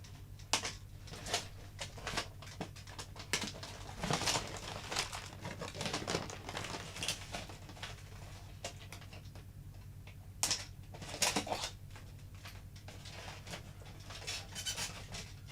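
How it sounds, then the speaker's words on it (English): Cutters snip through the wire ties holding a 2000 McFarlane Toys King Kong deluxe boxed figure in its packaging, producing faint, irregular clicks and crinkling plastic rustles scattered over a steady low hum. "there's a ton of wires you need to cut to get this guy out."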